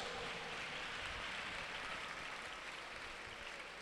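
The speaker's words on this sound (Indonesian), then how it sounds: "Tepuk tangan" A class applauding in a madrasa lesson, a continuous soft patter of many hands clapping, fairly distant and even throughout without voices.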